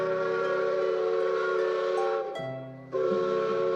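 A train whistle sounds as the train departs, a long sustained tonal blast that dips briefly and then resumes, loud and close with no talking.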